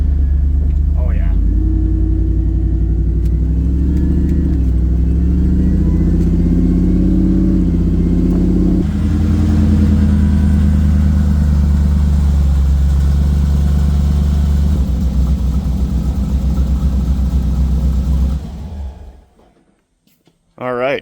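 A Ford SVT Lightning pickup truck on a test drive, its engine rumbling loud and steady at close range while it slows hard to bed in new brake pads, tapering off near the end under occasional talk.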